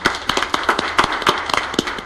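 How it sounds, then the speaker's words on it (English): Brief round of applause at a school district board meeting: sharp, uneven claps from a small group of people, close and clear, with no talking. "How about a round of applause first?"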